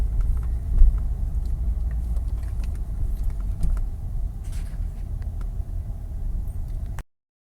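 A manual-transmission car pulls away from a stop, its low engine rumble steady and close throughout, with faint light rattles and clicks from inside the cabin and no one talking.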